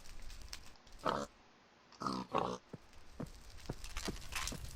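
Pig grunting and oinking in a block-building video game, a few short bursts spaced apart over a low background hum, no talk.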